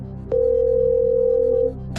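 Steady telephone dial tone, a single unbroken electronic hum that starts abruptly, holds loud and even for about a second and a half, then cuts off.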